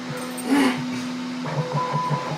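A 3D printer hums and whirs with a steady tonal drone, then switches to a series of pulsing, chirping motor steps, a close, moderately loud mechanical sound with no talking.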